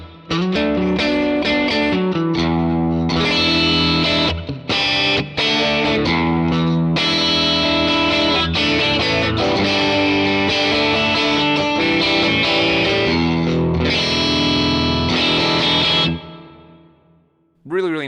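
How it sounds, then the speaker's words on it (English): Distorted electric guitar through a Vox AC20 amp with plate reverb, playing chords and riffs with a lush, dark reverb tail washing behind each note, loud and close, fading out at the end. "really, really nice kind of dark reverb to offset the really bright amp"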